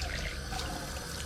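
Running water from a tap rinsing a Cavoodle puppy's face, a steady close splashing hiss that continues for a second or so without talk.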